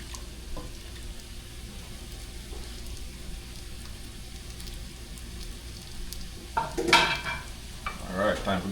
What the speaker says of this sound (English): Mix it up a little bit first.